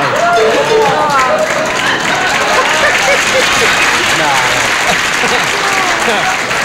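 A talk show studio audience breaks into loud, sustained applause, a thick, even wash of clapping that fills the room throughout, while voices talk over it on set.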